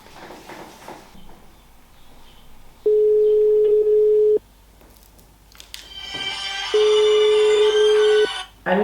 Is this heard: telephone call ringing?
yes